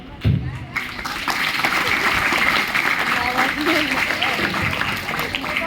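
A school crowd at a National Hindi Day celebration breaks into sustained applause, a dense wash of clapping that stays loud for several seconds with voices underneath.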